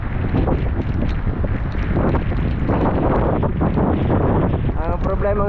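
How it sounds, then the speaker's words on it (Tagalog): Strong wind buffets the microphone at a seashore during a storm, with blustery roaring gusts and rain mixed with heavy waves, loud and continuous throughout. "hangin at ulan dito sa tabing dagat oh"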